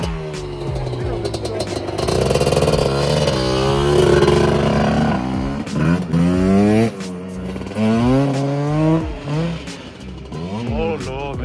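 A quad's engine revving hard while lifting with a flat tyre, with repeated rising and falling throttle blips, loud and close, and voices talking over it.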